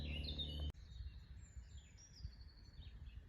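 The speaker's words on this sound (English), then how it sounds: "hearing the birds, hearing the pheasant squawk, hearing the cars go by" Birds chirp and call faintly outdoors in the grounds of a French château, a thin, sparse twittering over quiet background rumble, after a brief louder sound at the start.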